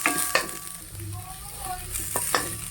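Garlic frying in a pan for a corned beef dish, a steady close sizzle with a few utensil scrapes and taps against the pan.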